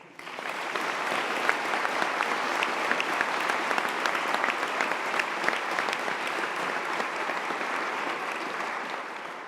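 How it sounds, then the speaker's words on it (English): A large audience at a Greenwich university graduation ceremony claps steadily and densely throughout, a sustained wash of applause at moderate distance with no voices on top. "can I ask just for a round of applause so that we can acknowledge their work?"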